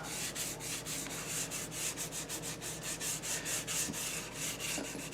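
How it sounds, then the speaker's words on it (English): Steady rhythmic scratching of hand sanding a second coat of shellac on a wooden school desk, quick back-and-forth strokes repeating evenly, close and moderately loud with no talking. "this is my second coat that I'm sanding right now."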